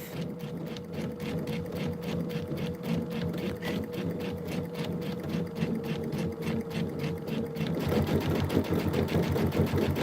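A sewing machine runs steadily while stitching a June Tailor Casablanca placemat edge, a fast even motor whir with rapid needle ticks, close and continuous for the whole stretch, getting slightly louder near the end.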